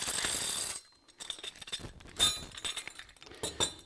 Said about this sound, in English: You push the brush into here and spin out that excess solvent.